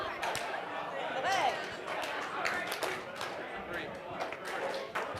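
A group in a presentation room claps and stomps a rhythm exercise together, with irregular overlapping hand claps and thuds under a continuous murmur of chatter and voices.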